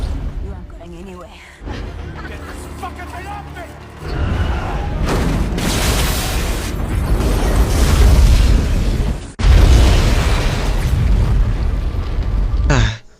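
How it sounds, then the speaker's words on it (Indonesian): Car explosion in an action film scene: heavy booming blasts with a roaring rumble, a first burst partway in and a second sharp blast later, loud and close, with voices briefly mixed in. "Lucas pun memasuki mobilnya ke ruangan Niles untuk meledakkan mobilnya ke arah si Niles tersebut"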